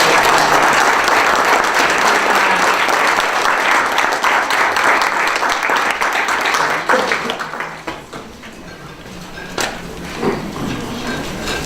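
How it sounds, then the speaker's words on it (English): A crowd at a youth workforce forum gives a loud round of applause, dense clapping that gradually thins out into scattered claps and a few cheers, with a brief voice near the end. "if everyone can give a round of applause for this"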